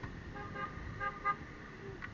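A car horn gives a few short, faint toots in the distance over low traffic rumble.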